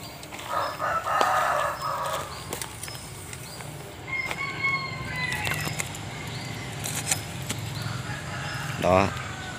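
Near a lakeside area, a rooster crows loudly while chickens cluck in short bursts, with a person talking and other farmyard noises around them.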